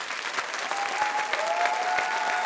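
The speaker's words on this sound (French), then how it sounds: "je vous demande d'applaudir Singila, s'il vous plaît." Applause from a studio audience on a French talk show, a dense, steady wash of clapping filling the whole stretch at close range, with a faint tonal line running through it and no talk over it.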